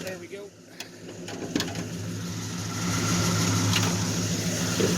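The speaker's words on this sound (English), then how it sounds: "I'm gonna let you hear the engine run." A 1972 Ford LTD's 400 big-block V8 runs with a steady low rumble that grows louder and fuller about halfway through, with faint background sounds around it.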